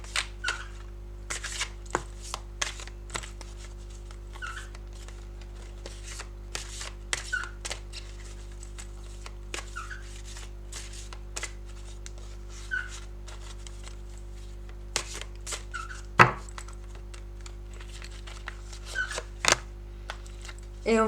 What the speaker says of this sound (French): je vais quand même aller tirer une carte oracle